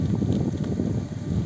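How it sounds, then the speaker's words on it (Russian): Strong wind buffets a microphone inside a moving car on a village road, a dense low roar with uneven gusty swells across the whole stretch. "Ветер сильный."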